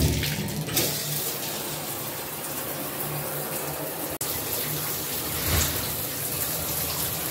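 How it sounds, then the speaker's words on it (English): A home shower runs steadily, a close, even hiss of spraying water that continues without a break, with no voices. "I am about to jump in the shower now"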